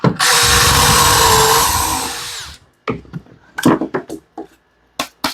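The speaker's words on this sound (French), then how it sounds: "on prend notre drill" A power drill bores into wood for a rustic wooden star, a loud whirring burst of about two and a half seconds, then several short drilling bursts and clunks close by.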